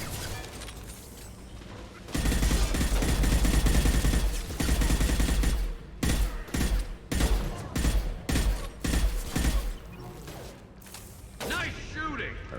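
Assault rifle gunfire in the video game Mass Effect 2, with rapid bursts of shots in choppy clusters and game effects around them, loud and close.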